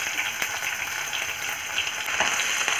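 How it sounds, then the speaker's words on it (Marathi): Garlic and ginger paste with curry leaves sizzles in hot oil for a Marathi cabbage and chana dal sabzi, giving a bright, even frying hiss with a couple of faint stirring taps. "आणि चांगलं परतवत आहे मी आता"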